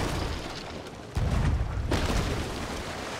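Cannon fire in a ship battle within a video game: a single heavy boom hits about a third of the way in and rumbles on, with no talk over it.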